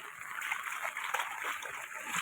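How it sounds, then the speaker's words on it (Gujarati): Rainwater rushing along a road during a heavy downpour, a steady broadband wash of flowing water that stays loud and continuous throughout. "મિત્રો એટલું પાણી જાય છે"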